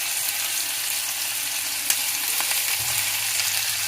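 Fried tilapia sizzles in a pan with cooked tomatoes, giving a steady, dense hiss with a few faint clicks and a brief low thump near the middle.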